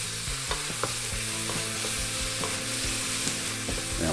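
Milk cap mushrooms sizzle steadily in a hot pan, with occasional clicks and scrapes from stirring over a continuous, close frying hiss.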